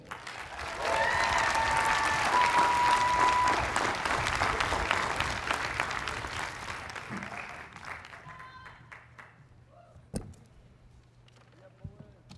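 Applause at a university commencement ceremony for the undergraduate student speaker: a broad crowd clapping swells quickly, holds for several seconds, then thins out to scattered claps and near quiet.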